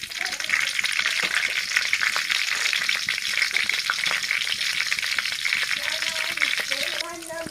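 Green chillies of the Teja variety fry in hot oil for an eggplant curry. The sizzle is loud and crackling, with stirring scrapes and a brief watery gush near the end.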